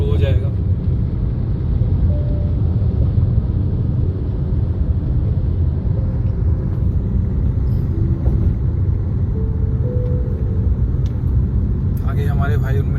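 City road traffic in Bangalore is heard from inside a moving vehicle on a road trip, as a constant low engine and road rumble with an occasional air-brake hiss near the end. Someone talks over it throughout.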